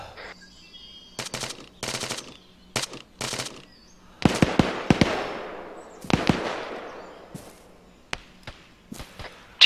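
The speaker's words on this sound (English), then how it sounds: "We have live fire coming out that direction." Bursts of automatic and single-shot gunfire from the military video game Arma 3, sharp repeated cracks at varying distances with some echoing tails, coming in uneven clusters across a tense firefight without talk.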